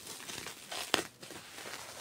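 A parcel wrapped in bubble wrap is unwrapped close up, soft plastic crinkling and rustling with one sharp crackle in the middle, all quiet with no talking.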